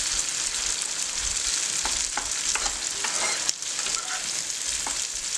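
Onions sizzle slowly in a pan for khichuri, a steady broad frying hiss with occasional stirring scrapes and soft clicks throughout, no voices.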